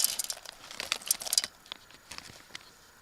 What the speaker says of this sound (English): I'm going to dump this in the pot.